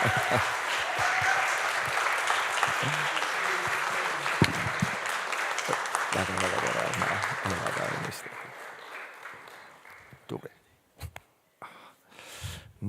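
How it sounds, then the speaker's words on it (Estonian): Church congregation applauding, sustained clapping that fades out and thins to scattered claps, with quiet talk underneath. "Ma arvan, et aplodeerida võib ikka veel ja veel."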